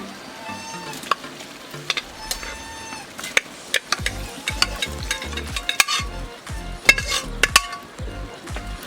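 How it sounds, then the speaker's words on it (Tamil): Mutton stirred with masala in a pan for dum biryani: irregular scraping and clinking of a spoon against the pan over a low frying sizzle, with sharp taps scattered throughout, close and moderately loud. "இப்போ இந்த மட்டனில் இந்த மசாலெல்லாம் நல்லா ஒட்டுற மாதிரி நல்லா மிக்ஸ் பண்ணி விட்டுக்கிட்டாங்க"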